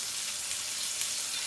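A chicken fillet fries in a pan with a steady, dense hiss and crackle of hot oil, close and even throughout.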